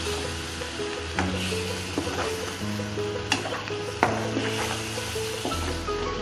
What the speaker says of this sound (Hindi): मसाला भून रहा है इसका